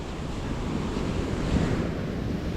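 Sea waves surge onto a storm-battered coastline in a steady, loud roar of breaking surf with wind buffeting the microphone, continuous and unbroken, with no voices.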